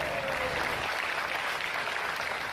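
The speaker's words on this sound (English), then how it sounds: "Give him a clap." Steady, dense applause from an audience at a charity ride event gathering, clapping for a man who just gave a speech; an even wash of hands throughout with no clear peaks, at moderate distance.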